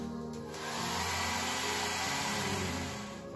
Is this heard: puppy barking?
no